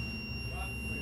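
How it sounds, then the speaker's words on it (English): An emergency generator's control panel alarm sounds a steady, continuous electronic tone over a low machine hum, held without a break. "you're going to get an alarm that you can't silence"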